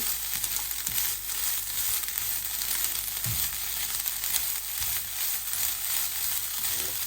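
Fresh grated coconut fries in a pan, giving a continuous soft sizzle with a few light scraping and stirring knocks, fairly quiet and close.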